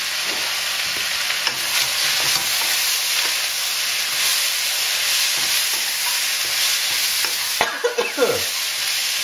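Tofu, cashew nuts and vegetables frying together in a pan, a loud continuous sizzle with occasional stirring scrapes and a brief clatter near the end, close and dominant.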